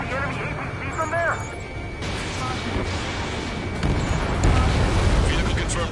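Explosion of an enemy APC in the combat flight game Ace Combat 7, a broad rumbling blast that swells in the last two seconds amid continuous battle noise, with radio chatter over it.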